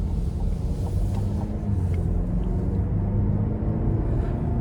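A 2026 Buick Envision Preferred AWD with a 2-liter turbo four and nine-speed automatic drives along, giving a steady, continuous low engine and road rumble heard from inside the cabin, with no talk.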